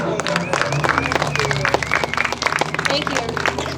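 Audience applauding at a library mural dedication, steady dense clapping throughout with crowd murmur and some voices mixed in.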